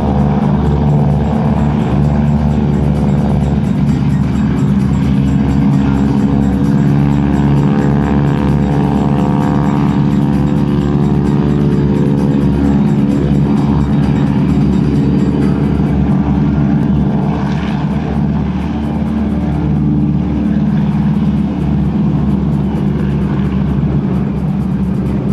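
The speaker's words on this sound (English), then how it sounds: "Let's listen to the sound of these Pratt & Whitney engines as they spool up." Pratt & Whitney radial engines on the GEICO Skytypers vintage aircraft rumble and drone continuously up close at a military open house airshow, a steady loud propeller roar with shifting tone and no speech.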